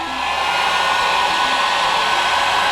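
A heat gun blows a steady, loud broadband rush of hot air onto a carbon fiber trim overlay for a 2016+ Camaro interior, continuous and close throughout without any talk.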